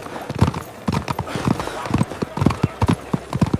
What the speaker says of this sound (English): he threw himself onto his black horse and rode hard toward the tree line